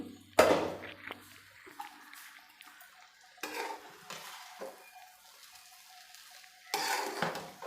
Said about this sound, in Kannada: ನಾನು ಮುಚ್ಚಳ ತೆಗೆದು ಒಂದು ಮಿಕ್ಸ್ ಮಾಡ್ತೀನಿ